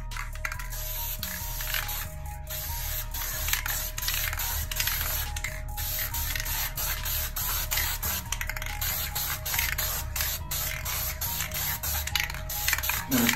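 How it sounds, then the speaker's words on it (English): Steady hissing spray from an aerosol can of primer coating headlight parts, running almost continuously with brief pauses, close and fairly loud, over a low background hum. "I'm gonna spray it in motion."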